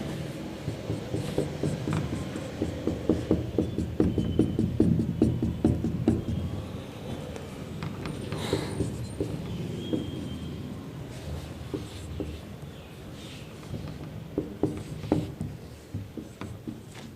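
A teacher writes out a physics question on a board, the marker or chalk making a run of soft tapping, scratching strokes at close range, steady over a low hum, with no talk.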